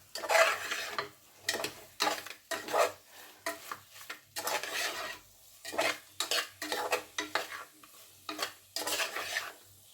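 Chicken biryani masala being fried and stirred in a pot, a spoon scraping and clattering in repeated bursts with a soft sizzle underneath, close and steady with short pauses between strokes.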